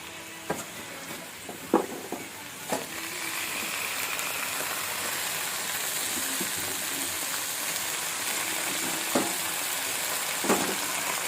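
Washed pumpkin stems hit a hot frying pan and sizzle in a steady, dense hiss that runs throughout, broken by a few sharp clinks and stirring knocks.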